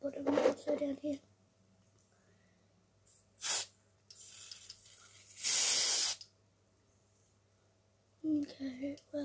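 Two bursts of aerosol spray hiss out, a short sharp puff followed by a longer sustained blast, with someone talking before and after them.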